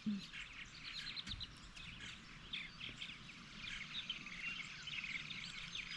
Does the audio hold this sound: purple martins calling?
yes